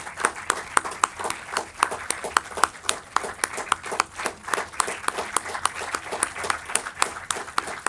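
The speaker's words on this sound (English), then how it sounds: "Please give them a round of applause." Audience applause for dignitaries after the unveiling of books at a book launch and panel event, steady clapping from a moderate crowd with sharp individual claps standing out, sustained throughout.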